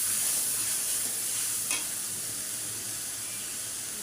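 Spice paste (masala) sizzles and fries in a pan while being stirred, a soft, continuous hiss with occasional scraping, for a winter bottle gourd and shrimp dish; no one speaks.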